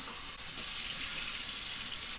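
Tap water runs steadily into a lab sink while a cup is rinsed, a continuous close hiss and splash lasting a couple of seconds with no voices.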